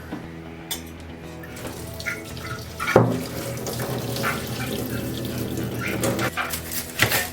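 Water runs from a kitchen tap into a sink and drains while food is prepared for a Japanese meal, a steady close splashing with a few clunks and a dog barking nearby.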